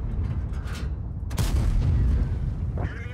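A World of Tanks ammo rack detonation: a loud, sudden boom hits partway through, then a sustained rumbling roar over steady engine drone, with a short crackling tail at the end.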